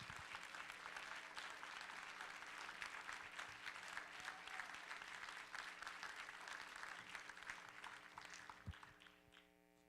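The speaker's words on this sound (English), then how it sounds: "you deserve a giant round of applause" Applause fills a hall at a state party convention meeting, a dense, steady roar of clapping that tapers off toward the end as a low electrical hum remains.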